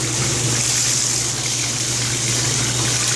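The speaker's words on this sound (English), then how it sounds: "this water's probably just water that has been sitting inside the water heater." Water draining from a residential water heater, a steady continuous gush with constant hiss and a low hum underneath, even and unbroken throughout.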